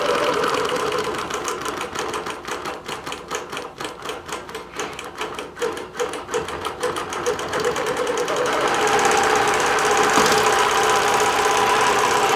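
A sewing machine runs slowly over small quilt pieces fitted with a number 9 foot, giving a steady rapid needle clatter that fills most of the stretch and shifts to a smoother hum near the end.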